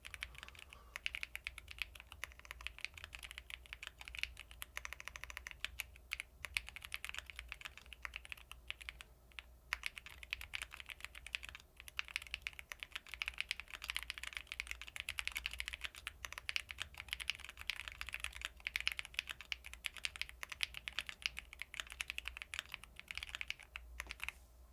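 Fingers type steadily on a computer keyboard with quiet, rapid clicking that continues for the whole stretch and pauses only briefly. No one speaks.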